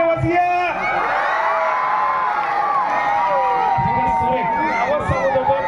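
Crowd of Harnai villagers at a Govinda festival event cheering, whooping and shouting together in a loud, sustained roar, with children's shouts and a few claps rising near the end.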